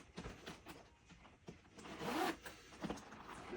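A zipper on a leather briefcase pocket being pulled, a series of short close raspy zips and scrapes, quiet overall with a longer drawn stretch in the middle.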